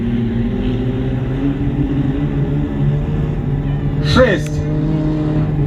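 Several race cars roar around a dusty dirt track during a no-rules race in Zhatai, a steady engine drone with a sharp rising rev near the end, heard loud and close.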